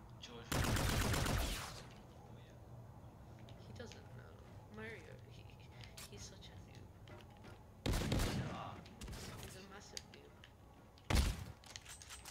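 Bursts of automatic gunfire in the Call of Duty video game: one long loud burst, then two shorter bursts, with players talking in between.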